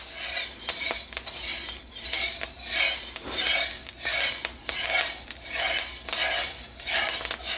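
Green coffee beans roast in a carbon steel wok at second crack, with sharp scattered pops over rhythmic scraping and rattling as the beans are stirred, all close and fairly loud.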